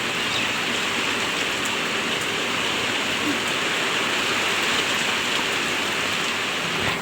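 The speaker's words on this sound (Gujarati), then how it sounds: "પવન નહીં છે, પાછો વરસાદ છે" Heavy rain falls steadily in a dense, unbroken hiss that stays loud and even from start to finish, with no wind.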